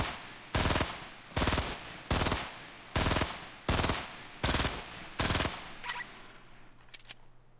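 Automatic gunfire in Fortnite Battle Royale, fired in about seven loud, evenly spaced bursts that each last a fraction of a second, with a couple of fainter cracks and a low hum trailing after them.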